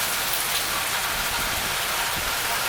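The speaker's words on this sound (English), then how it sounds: "It is raining very heavily." Heavy rain pours steadily during Hurricane Hermine, a loud, continuous dense hiss of downpour close by with no letup, and no one is speaking.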